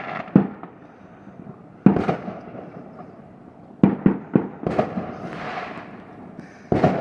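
Bonfire Night fireworks heard from a backyard, with about seven sharp bangs spread unevenly across the stretch. Several have crackling, fizzing tails, and a few come in quick succession midway.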